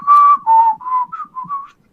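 A person whistles a short, wavering tune up close, five or six quick notes sliding up and down, clear and alone without any talking.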